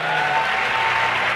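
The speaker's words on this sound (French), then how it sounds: "Can we put our hands together for our God?" A congregation at a French-speaking church worship service claps steadily and warmly, a dense, even applause filling the room for the whole moment.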